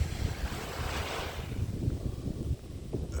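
Water flows gently at the beach with a soft, continuous wash of surf. Steady wind buffets the microphone throughout.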